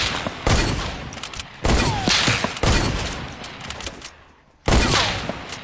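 Gunfire in a shooter video game with hunting rifles: loud, close bursts of rapid shots in several volleys separated by brief pauses.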